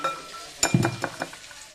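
Vegetables for chili chicken frying in a pan, with a few close metallic clinks and scrapes of a spatula stirring against the pan over a faint background hiss; no voices.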